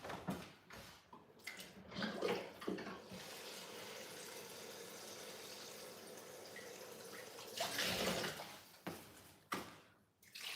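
Water is poured into a cooking pot of beef for egusi and oha soup, a steady rushing pour lasting several seconds, then a brief louder splash, amid quiet kitchen handling sounds.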